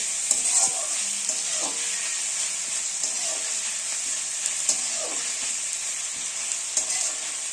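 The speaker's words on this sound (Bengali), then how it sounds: "এরপর পেঁয়াজটা আমি একটু লাল করে ভেজে নেব।" Onions frying to a reddish brown in a pan for chana masala, a steady close sizzle with a few soft spatula strokes breaking through now and then.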